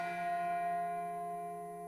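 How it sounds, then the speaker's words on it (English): A bell-tower style sample from a sound pack used in trap production rings out as one sustained, resonant bell strike with steady harmonic overtones, slowly decaying, heard alone with no voices. "One of my favorites is this bell tower kind of sound."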